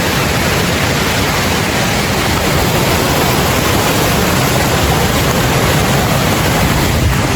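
River water rushes loudly and continuously at a river crossing on a forest trail in Tarlac, a dense close hiss and roar of flowing current with no voices.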